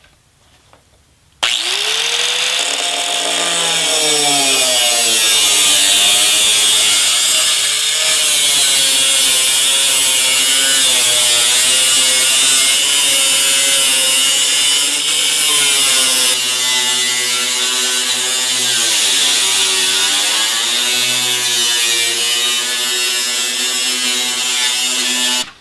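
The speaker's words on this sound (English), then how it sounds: "we're just going to use a good quality thin cutting wheel on an angle grinder here" An angle grinder fitted with a thin cutting wheel slices into rocker panel steel, a loud sustained high-pitched whine that starts abruptly and runs continuously, its pitch wavering as the cut goes straight in.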